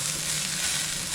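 Sardines sautéing with onions and garlic in a pan give a steady, close sizzle and frying hiss that runs evenly throughout without any voices.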